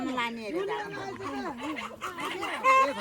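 Chickens being fed before a puja at a hillside shrine, giving rapid, busy clucking and chattering up close, with people talking over the flock throughout.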